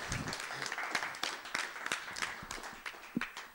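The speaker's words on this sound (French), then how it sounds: "On peut applaudir quand même les dessinateurs." Audience applause for the illustrators at a science video festival journal club on dinosaur feathers in amber, a moderate burst of scattered hand claps with distinct individual claps standing out, steady throughout.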